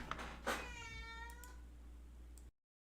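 A cat gives a couple of clear, close meows, one short and one drawn out with a falling pitch. Faint clicks follow, then the clip cuts to silence.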